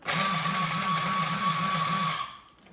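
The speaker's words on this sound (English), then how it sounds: "I'm just going to give that a grind so it's not that big." An electric spice grinder whirs through whole spices for an Italian beef sandwich seasoning, a loud close motor whine with a pulsing wobble that runs for about two seconds and then cuts off.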